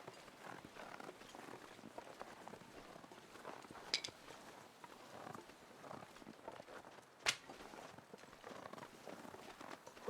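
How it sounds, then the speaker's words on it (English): Footsteps of a deer running across the ground in The Long Dark survival game, a soft rapid patter of hooves under steady wind-like ambience, with a couple of sharper knocks, moderately faint and without talk. "I hear someone else's footsteps."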